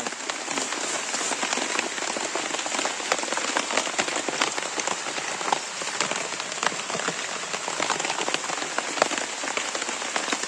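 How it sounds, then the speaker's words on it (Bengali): Steady rain pours all around an outdoor cooking spot with a wood fire, where goat tripe is being prepared; a dense, constant patter of drops hits nearby surfaces, loud and even throughout with no voices. "কি অবস্থা বৃষ্টি চারিদিকে পড়ছে"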